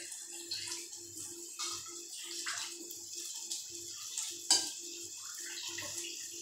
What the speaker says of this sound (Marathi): हे आपलं रशीसाठी लागणारं पाणी आहे.